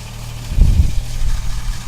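A 1970 Mercedes-Benz 280SL idles close by with a low, steady engine drone and a brief, louder throaty burble just after the start before it settles back into an even idle.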